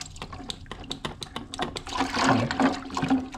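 Hot water is poured into a container to soak a paint spray mask, starting with scattered clicks and taps, then swelling into a splashing gush of liquid near the end.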